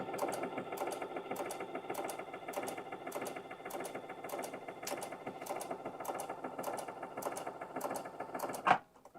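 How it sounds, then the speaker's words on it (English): A Baby Lock sewing machine runs stitch 93, sewing sideways to the left: a close, steady mechanical whir with a fast regular needle clatter for several seconds, ending in a sharp click. "if I need to sew to the left, that's going to be stitch 93"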